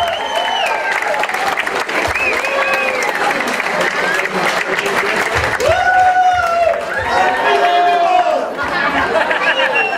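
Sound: audience applause

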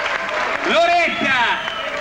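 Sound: applause for choir members

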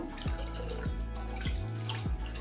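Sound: water being poured into a bowl of curd for buttermilk

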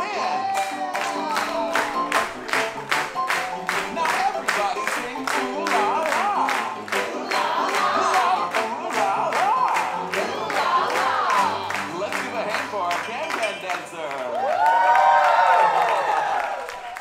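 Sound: audience clapping along to can-can dance

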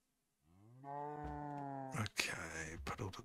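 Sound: cow mooing in the Minecraft video game

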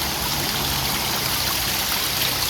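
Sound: waterfall stream flowing near a restaurant

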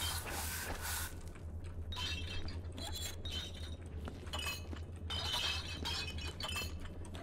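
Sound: glass bottle clinking sound effect in the video game Viscera Cleanup Detail

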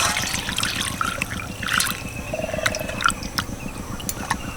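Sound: pouring water to wash potatoes

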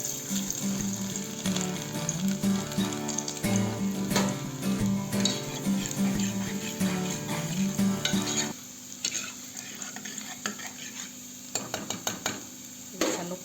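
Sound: garlic frying in a pan

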